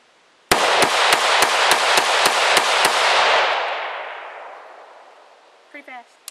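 About nine gunshots fire in rapid, even succession at close range, each sharp crack piling onto a roaring echo that fades out over a few seconds. A brief voice follows.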